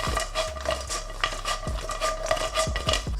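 Garlic and chips are stirred in a pan, a metal utensil clinking and scraping against it in quick irregular strokes, close up, over a faint low hum.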